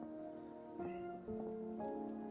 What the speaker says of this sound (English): my kitty's meowing